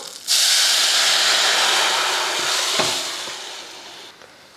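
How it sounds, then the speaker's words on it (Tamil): Ground paste poured into a pot of thoothuvalai rasam hits hot tempering of mustard seeds, curry leaves and asafoetida, bursting into a loud, close sizzling hiss that slowly fades. "இப்போ ரசத்துக்கு அரைச்சதை ஊற்றிடலாம்"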